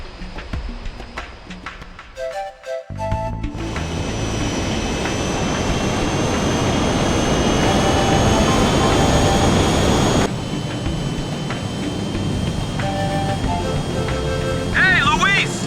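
In the Front Mission 4 video game, a plane's jet engines roar loud and steady for several seconds after brief game sounds, then ease slightly and continue as a sustained drone.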